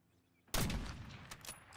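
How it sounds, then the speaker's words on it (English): A sniper rifle fires in the Warzone shooter game: one sudden loud, sharp shot after near silence, followed by a ragged, echoing crackle of further gunfire and noise. "Gets sniped by somebody else behind him."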